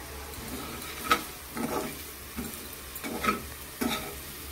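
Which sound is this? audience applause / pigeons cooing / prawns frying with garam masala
prawns frying with garam masala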